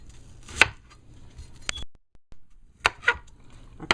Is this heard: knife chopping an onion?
yes